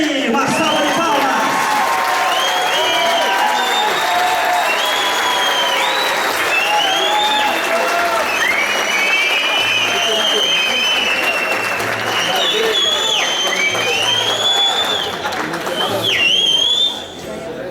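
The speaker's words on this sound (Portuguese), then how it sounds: "Uma salva de palmas." Audience applause with cheering and scattered whistles greets a traffic agent from Barueri as he is welcomed onto the stage at a road safety event, a dense, steady wash of clapping for about sixteen seconds before it tapers off.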